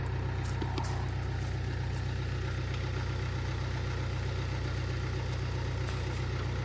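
A tractor engine idles with a steady, deep, unbroken rumble, close and constant, with faint higher clicks riding over it near the start.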